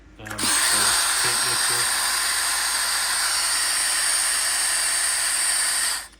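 A power drill fitted with a mixing bit stirs hydroponic nutrient solution for home-grown hydro buckets, a steady loud whirring hiss that starts abruptly and runs continuously for about six seconds before stopping, with brief talk at the start.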